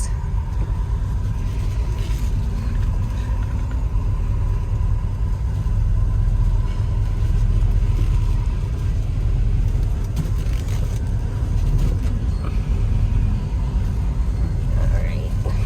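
A 1968 Plymouth Road Runner engine rumbles steadily from inside the cabin, a low continuous drone with road noise and slight shifts in intensity as it drives.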